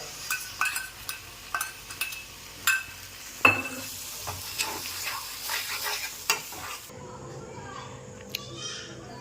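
Mutton kebab sizzles and gets stirred in a kadai, a run of scraping clatters over steady frying hiss, close and fairly loud, ending in a quieter stretch with a single clink.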